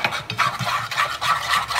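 Rice flour being stirred into a wet mixture for Bangladeshi kholaja pitha, with a steady scraping swish of spoon against bowl repeating in quick strokes, close and fairly loud.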